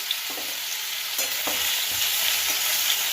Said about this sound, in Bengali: এবার চালটা আর মূলোগুলো দিয়ে একটু নেড়ে নেব